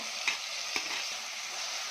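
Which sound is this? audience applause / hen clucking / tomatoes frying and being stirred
tomatoes frying and being stirred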